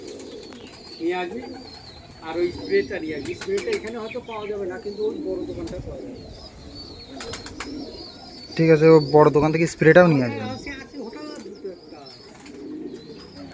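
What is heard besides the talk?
pigeons cooing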